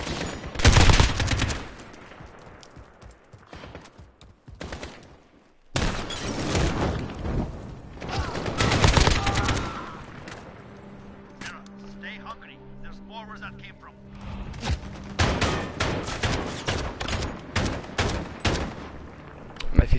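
Rapid video-game gunfire bursts loud and close, machine-gun fusillades with heavy booms, broken by short pauses and a quieter mechanical stretch, while players talk over the action.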